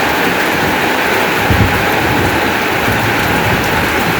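Steady rain falls outside an old house, a dense, even hiss of drops on surfaces that holds constant throughout, with no voices.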